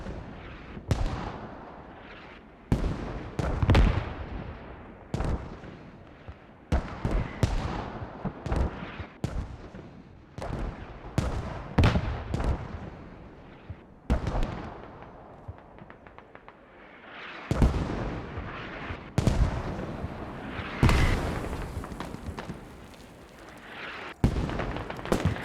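Heavy mortar fire in the Squad military video game during a Rivals tournament semi-final: a long run of loud, booming impacts and launches at irregular intervals, some near and sharp, others more distant, with no talk over them.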